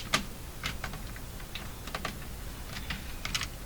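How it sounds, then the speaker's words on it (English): A cat steps across a computer keyboard, producing faint, irregular clusters of key clicks and taps at a low, quiet level. "Get off the keyboard, cat."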